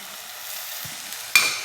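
Chicken gravy is stirred after curry leaves and coriander go in: a soft, faint hiss at first, then a sudden loud burst of sizzling near the end that stays bright and close.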